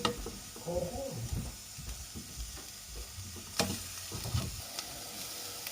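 Curry paste stir-fries in a pan with a soft sizzle and repeated scraping stirs, quiet and close, with a few louder scrapes and a bit of speech in the background.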